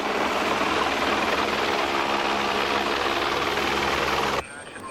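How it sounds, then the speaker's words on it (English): A loud, steady helicopter roar at a highway crash scene, with a deep engine rumble and a broad whooshing rotor wash, then cuts off abruptly near the end. "We've got a helicopter coming in for the injured parties."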